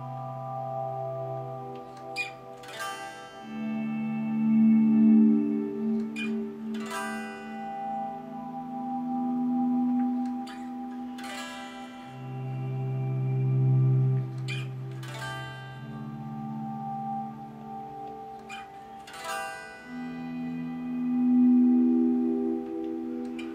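Slow, sustained electric guitar swells fade in and out through a phaser effect set wet, with added reverb, a sweeping, whooshing sound, each note blooming softly and ringing on.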